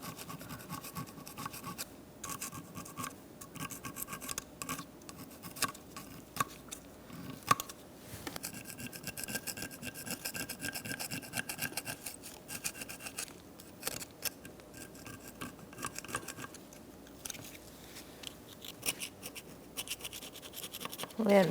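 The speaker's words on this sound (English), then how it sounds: "just use a flathead screwdriver and get all that rust out" Flathead screwdriver scraping rust from the rear brake assembly of a 2012-2019 Fiat 500, giving a continuous gritty metal-on-metal scratching and rasping with irregular strokes, fairly close and moderately loud.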